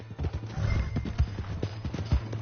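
Horse hooves clip-clop steadily in a video game, a quick, close rhythm of hoofbeats over a constant low drone, with no talking.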